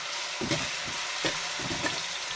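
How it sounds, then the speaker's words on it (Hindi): Liver frying with ginger garlic paste in a hot pan, a steady close sizzle broken by several soft stirring scrapes, with no talking. "अब इसमें डालने लगी है अदरक और लहसुन का पेस्ट। तो अब इसको भी 2 मिनट के लिए इसकी बुनाई करूँगी।"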